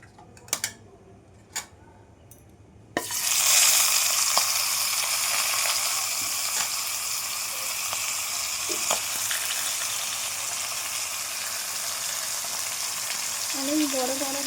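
Fish heads dropped into hot oil with spice tempering for a Bengali shukto, a sudden loud sizzle erupting after a few clinks and then holding as a steady bright frying hiss.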